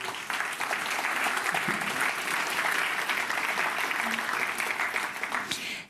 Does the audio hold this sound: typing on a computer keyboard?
no